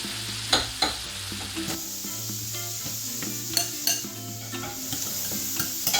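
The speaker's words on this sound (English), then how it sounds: "Frying pan." Shrimp for borracho shrimp tacos sizzle steadily in a frying pan, with a few sharp clinks and scrapes as a utensil stirs them up close; no one speaks.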